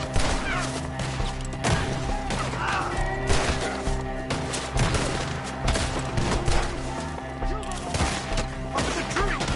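Heavy video game gunfire rains on enemies perched up in the trees, sustained volleys and sharp cracks with thuds and crashes mixed in, loud and dense throughout.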